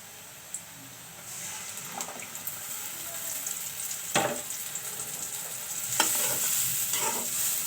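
Mixed spices are stir-fried in a pan as a soft, rising sizzle, with several sharp scraping stirs of a utensil against the pan spread through.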